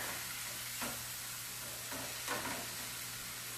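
Ground meat sizzling in a hot pan, a constant frying hiss at low volume, with a few soft scrapes as it is stirred and turned, and no voices.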